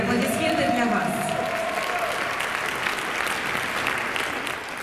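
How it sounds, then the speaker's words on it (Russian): Spectators at an international Latin dance festival final applaud the dancers, a full sustained burst of clapping with cheering voices and some speech mixed in early, thinning slightly toward the end. "Эти аплодисменты для вас."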